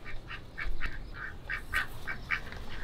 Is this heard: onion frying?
no